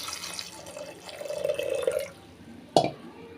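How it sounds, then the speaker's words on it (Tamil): Water poured from a tap into a pressure cooker holding rinsed double beans, a steady running splash building for about two seconds, then a brief sharp clink or splash near the end. "கொஞ்சமாக வேகிற அளவுக்கு தண்ணி சேர்த்துக்கிறேன்"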